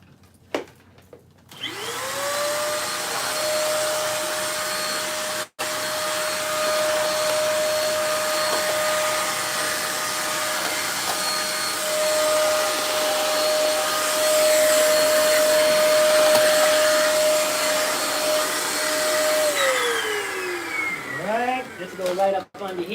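A corded Dirt Devil vacuum cleaner starts up, runs with a steady high whine and airy roar for most of the stretch, then winds down, with a few knocks and indoor handling noise around it.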